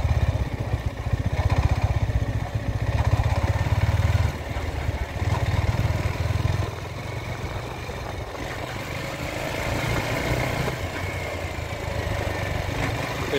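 A Yamaha XSR 125 motorcycle riding at about 13 km/h, its engine jerking and surging when the throttle is released and reopened, with a low uneven drone that drops in level partway through.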